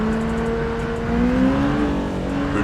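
Busy road traffic heard from inside or near a moving car, with a continuous engine drone and rising, whirring tones of vehicles accelerating and passing, fairly loud and without talk.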